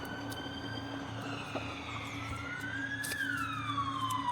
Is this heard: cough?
no